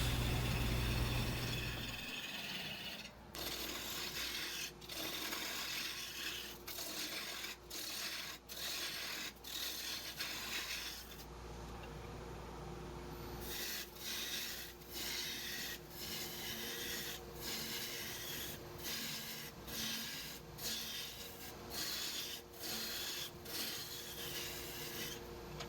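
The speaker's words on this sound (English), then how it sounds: "So I'm going to go ahead and use a spindle gouge, get it trued up in between centers" A spindle gouge trues up a wood blank turning between centers on a lathe, a continuous loud rasping cut with rhythmic catches as the tool rides the uneven wood, briefly easing off before resuming.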